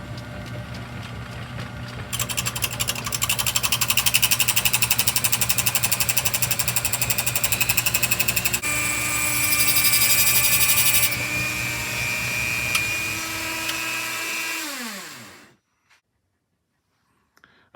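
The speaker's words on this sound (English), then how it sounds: "And here's a clip of how I did this on the lathe." A small model lathe runs while a T-slot cutter is machined, a continuous loud mechanical whir and whine that changes tone partway through, then winds down and falls silent near the end.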